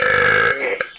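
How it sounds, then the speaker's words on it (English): A drawn-out, loud belch rumbles close to the mic for about half a second, then tapers into a quieter gurgling tail with a brief sharp click near the end. "if we're gonna go for belch, let's try this"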